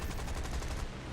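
Rapid machine-gun fire chatters steadily from a fighter plane while attacking a P-38 in a flight video game, a dense continuous burst close and loud over engine drone.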